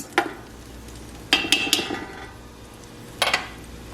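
Chopped onion stirred in a pot with a utensil: a sharp metallic knock, then a cluster of scraping clinks against the pot, and one more scrape-and-tap a little later, close and fairly quiet.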